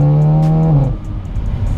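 A Seat Leon Cupra front-wheel-drive DSG hot hatch with 420 bhp accelerates hard on a motorway, a loud close engine note climbing steadily then dropping at a gearshift into a broad roar of road and wind noise.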